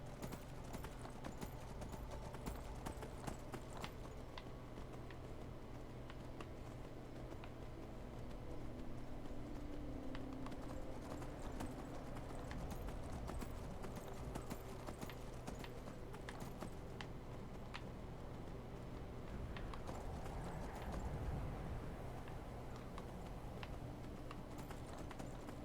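Horse hooves clip-clop steadily on the ground in Skyrim, a continuous rhythmic trotting that runs throughout against a dense game background, with no talking.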